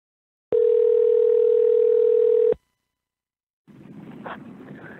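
A single steady telephone tone sounds for about two seconds while a call is placed to reach a voicemail, loud and unbroken, then cuts off; after a pause, faint rustling room noise follows.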